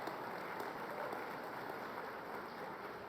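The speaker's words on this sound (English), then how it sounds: "a big round of applause for Anna because this is a Chamber of Commerce meeting." Applause for a speaker at a Chamber of Commerce meeting: a steady, faint wash of many hands clapping that continues evenly throughout, with no voices on top.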